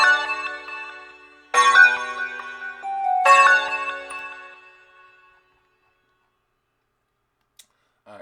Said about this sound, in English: so I just used a harp